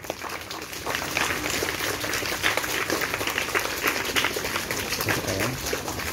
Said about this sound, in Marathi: टाळ्या वाजवा मुलांनो.